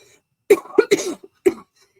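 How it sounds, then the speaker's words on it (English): A short burst of several dry coughs, close and fairly loud, with brief pauses between them and silence around. "Excuse my cough."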